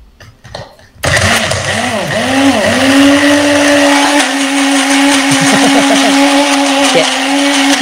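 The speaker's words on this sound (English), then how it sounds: "So everything's in the blender now. And just going to give it a few blitz." Mason jar blender blitzing a smoothie: after a brief rustle the motor kicks in loud and close, pitch sliding as the blades catch the contents, then settling into a steady high-speed whir.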